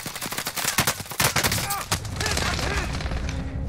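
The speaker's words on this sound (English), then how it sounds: "Taking enemy fire." Bursts of automatic and single gunshots in the Warzone video game crack in quick clusters, loud and close, tapering into scattered fire with voices talking over it.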